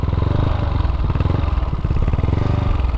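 A Yamaha Mio 150cc scooter engine with sonic valves runs steadily and loudly up close, a continuous mechanical putter with light clatter throughout.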